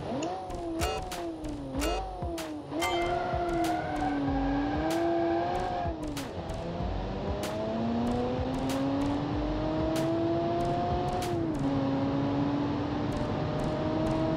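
A 1970 muscle car with a 200-horsepower engine accelerates in the Automation video game, its engine note climbing hard through a series of gear shifts, loud and continuous with no talking.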